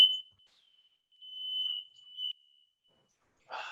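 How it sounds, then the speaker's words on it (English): A highly sensitive household smoke alarm goes off during cooking, giving a piercing electronic tone that sounds in two sustained bursts before cutting out, followed by a brief noisy rustle. "I have super sensitive fire alarms in the house"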